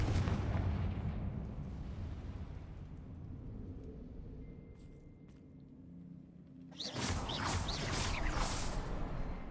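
A Confringo spell explosion in Hogwarts Legacy: a booming blast fades slowly into a rumbling tail, followed by a second, sharper burst near the end. Both are moderately loud, with no talking.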